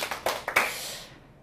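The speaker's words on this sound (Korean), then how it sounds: "자, 박수 한번 시작!" A small group claps hands a few times in quick, uneven bursts, close and fairly crisp, then the sound dies away into quiet.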